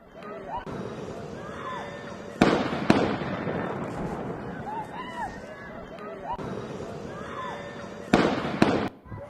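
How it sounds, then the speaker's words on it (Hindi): Sharp loud bangs of gunfire, two clusters of shots cracking out over a steady background of voices and commotion. "किस तरीके से गोलियां चलने की आवाज़ें जो है वो सुनाई दे रही हैं"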